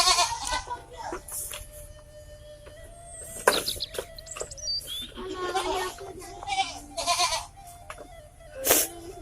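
A baby goat bleats several times in short, nearby cries, with birds chirping and people talking in the background.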